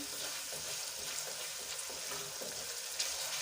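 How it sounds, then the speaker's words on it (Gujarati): Onions sautéing in a thin layer of oil with asafoetida for pav bhaji, a steady, soft frying hiss with light stirring scrapes, close and continuous with no talk. "આપણી ડુંગળી 2 થી 3 મિનિટ સુધી સંતળાવા દઈશું।"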